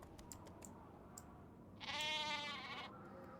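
A single sheep bleats in the Nancy Drew game The Haunting of Castle Malloy, a wavering cry lasting about a second, clear over a quiet background with faint clicks before it.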